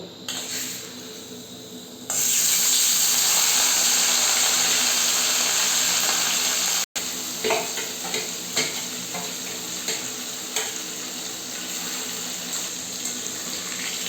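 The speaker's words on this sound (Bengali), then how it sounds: "মাছটা মাখিয়ে রেখেছিলাম আর আমার তেল গরম হয়ে গেছে। এর মধ্যে আমি দিয়ে দেব।" Marinated katla fish dropped into hot oil bursts into a loud, sustained sizzle after a quieter start, crackling on with small stirring clicks and a brief gap.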